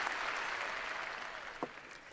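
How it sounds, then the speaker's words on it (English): Audience applause at a presentation, a soft, distant wash of clapping that fades gradually over about two seconds, with one brief louder knock near the end. "I want you to clap"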